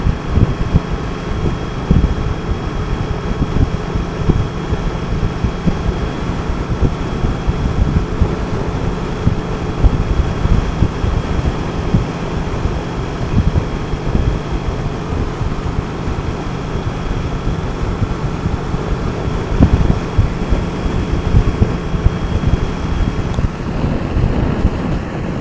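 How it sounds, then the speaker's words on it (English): Wind buffets steadily inside a motorcycle rider's helmet at about 70 to 75 mph in fifth gear on a Kawasaki. A constant loud rumble with gusting roar continues throughout with no break. "there's some wind buffeting going on in my helmet"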